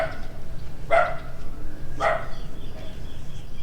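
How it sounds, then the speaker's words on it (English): A dog barks twice in a street near a small shrine in Bitung, Sulawesi, Indonesia, two sharp separate barks a second apart over steady outdoor background hum, no talking. "There's a barking dog"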